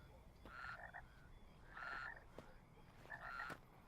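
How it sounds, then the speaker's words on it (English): A stylized frog croaks in the video game Dead Rising Deluxe Remaster, three evenly spaced, fairly loud croaking bursts standing out over low game ambience. "Hyper-realistic frog!"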